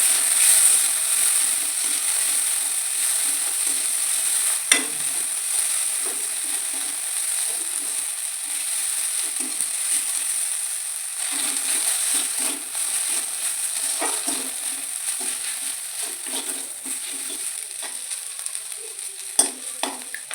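Chicken roll filling of chicken and mashed potato with turmeric stir-fried in a pan: a continuous close sizzle with repeated scraping strokes of a spatula and occasional sharp clacks against the pan, no talking.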